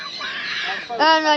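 A short, bright honking call from a water bird at Riyadh zoo rings out close by at the end, after a stretch of soft background noise.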